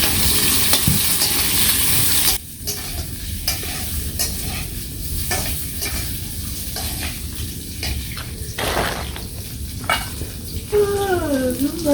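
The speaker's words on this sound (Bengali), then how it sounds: "আলুগুলো প্রথমে একটু ভেজে নেব" Potatoes sizzle in hot oil for a village home curry, with a loud hiss and repeated scraping stirs from a spatula throughout, close and continuous, with no voices.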